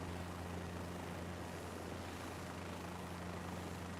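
A helicopter holding a hover over a helipad in Microsoft Flight Simulator 2024, a steady low rotor drone with a constant engine hum, even and unbroken throughout at a fairly quiet level.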